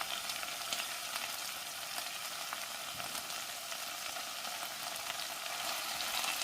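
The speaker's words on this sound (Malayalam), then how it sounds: "അതിന് ലോ ഫ്ലെയിമിലിട്ട് തന്നെ വറുത്തെടുക്കാം." Chicken for kanthari chicken fry sizzling in a little oil over a low flame, a steady bright crackling hiss that holds at an even level with no voices.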